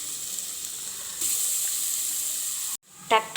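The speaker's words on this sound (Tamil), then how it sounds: "வெங்காயம் நல்லா வதங்கிடுச்சு" Onions sautéing in a pan with turmeric and asafoetida for green gram kuruma, a steady close sizzle that grows louder midway, then cuts off abruptly, followed by a short rising hiss.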